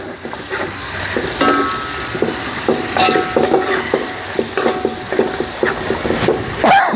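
Chicken pieces go into a pan of fried garam masala and are stirred, giving a loud, continuous sizzle broken by repeated scraping and stirring strokes close by; no voices.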